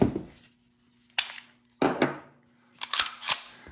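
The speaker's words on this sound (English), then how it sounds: "So take these magazines out so I can rack them." The slides of a CZ P07 and a Beretta PX4 pistol are racked by hand: several sharp metallic clacks and slide snaps in a quiet room, spaced out with a faint hum between them.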